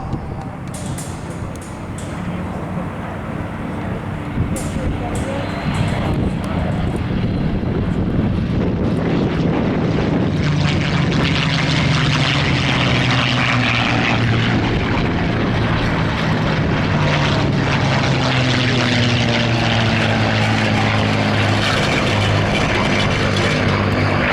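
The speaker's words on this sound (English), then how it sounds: "The three aircraft coming in now for their final pass." P-51 Mustang piston-engine propeller fighters, three aircraft, make a final low pass at an air show, a loud swelling engine drone with a clear falling pitch sweep as they pass, under a commentator's voice.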